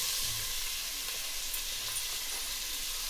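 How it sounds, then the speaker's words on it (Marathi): Two finely chopped onions sizzle and fry in hot oil on low heat for a spicy masala pulao, a steady close hiss with light stirring and no talk. "आता सध्या असं घेऊया तेलात परतून"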